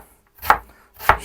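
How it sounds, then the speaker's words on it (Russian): Two crisp knife strokes on a cutting board as onion is chopped finely for a cheesy solyanka soup, close and distinct, evenly spaced about half a second apart in otherwise quiet surroundings. "Меленько нарезаем лучок."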